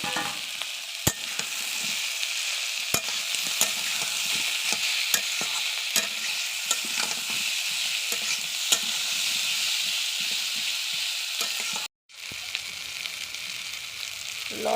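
Fried potatoes and drumstick pieces stirred in a pan with fried onion, bay leaf and tomato, giving a steady close sizzle broken by repeated scraping stirs of the spatula, briefly cutting out near the end.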